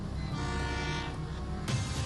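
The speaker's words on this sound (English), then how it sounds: "Okay, here comes the train." A train approaches along the track with a continuous low rumble and steady mechanical hum, a brief sharper burst cutting through near the end.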